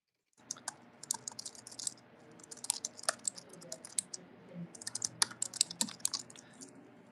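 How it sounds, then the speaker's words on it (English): Rapid, irregular keystrokes on a computer keyboard during a morning livestream meeting, with clustered bursts of clicks running steadily for several seconds, close and moderately quiet, with no voices. "I'm typing what the stones are."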